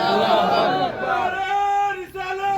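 A crowd at a religious gathering roars a slogan response in unison, a loud sustained mass of voices rising and tapering off over a couple of seconds.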